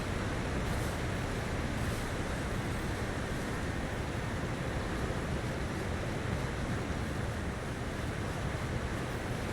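Steady roar of a waterfall in the Elden Ring Shadow of the Erdtree expansion, Cerulean Coast area, a dense unbroken wash of rushing water filling the scene without letup and with no voices.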